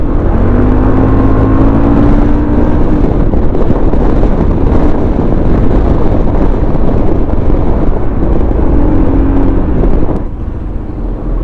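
Loud, roaring wind buffets the microphone while riding a Bristol Maxie 400 scooter, a constant rumbling rush with a faint engine whine underneath.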